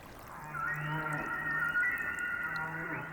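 A male humpback whale sings in the ocean, a faint, drawn-out moaning tone with a soft higher wavering layer, sustained for several seconds over a watery background.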